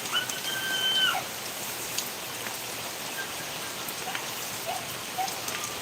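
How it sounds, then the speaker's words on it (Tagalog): Steady rain falls on the surfaces outside during a wet spell in Bicol, a constant close hiss of drops with occasional sharper taps, and no one speaking. "Maulan ngayon."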